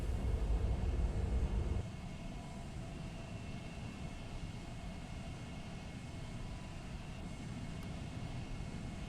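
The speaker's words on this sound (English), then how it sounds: "Full throttle, afterburners, catapult release." An F-14 jet in the VRChat game roars at full throttle with afterburners on a carrier catapult, a loud broadband engine rumble that drops to a steady sustained roar after the launch.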